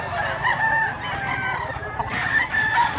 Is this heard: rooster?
yes